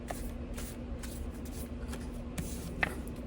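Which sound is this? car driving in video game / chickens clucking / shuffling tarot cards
shuffling tarot cards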